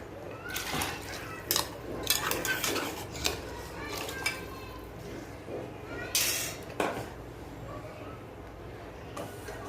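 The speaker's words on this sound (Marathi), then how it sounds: "आपण याच्यामध्ये मिक्सरमध्ये पण थोडंसं पाणी घालून छान धुवून टाकू" Water sloshes and splashes inside a mixer grinder jar while metal and glass clatter in sharp bursts, with quieter gaps between the rinsing sounds.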